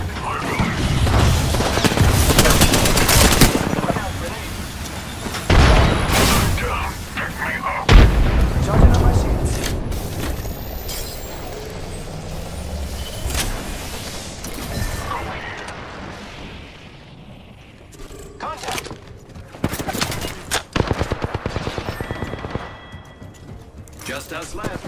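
Heavy gunfire and booming impacts in the battle royale game Apex Legends, loud and dense with repeated bursts and explosions for the first half, then thinner scattered shots and clatter, with a voice talking over the action.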